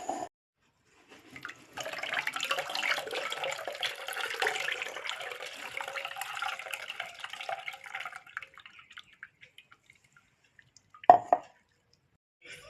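A mixer grinder lid is rinsed under a running tap, giving a steady close splashing wash for several seconds that then stops, followed by a brief sharp clatter near the end.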